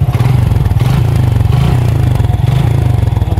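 A used motorcycle's started engine idles up close with a loud, steady, rapid thumping pulse and a mechanical clatter, with no voices.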